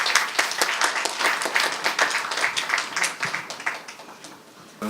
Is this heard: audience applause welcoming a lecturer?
yes